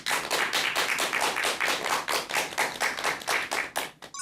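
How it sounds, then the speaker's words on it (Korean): An audience applauds at a lecture by a Hanyang University professor, heard as steady, rhythmic clapping, loud and close, as if from a few nearby hands, for about four seconds. "큰 박수 부탁드립니다."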